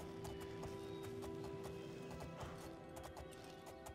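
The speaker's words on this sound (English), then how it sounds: "Our first time riding a horse in this game." Rapid, even hoofbeats clatter over a steady background drone, a horse clip-clopping at a brisk pace in the video game Oblivion.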